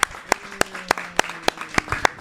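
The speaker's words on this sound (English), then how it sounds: "Please give a round of applause for yourself as an audience." A small podcast audience claps in sparse, distinct slaps, roughly four per second and irregular, close and fairly loud, with faint tones sustained underneath.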